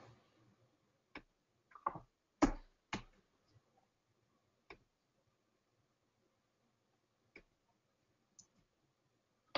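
Sparse, sharp computer mouse clicks on a quiet desk, a few close single taps spaced irregularly with long silent gaps between them.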